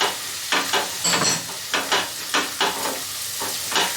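A spoon stirs chili flakes, turmeric and black pepper powder into a frying pan over low heat, giving repeated scraping strokes about every half second over a soft sizzle, close and alone.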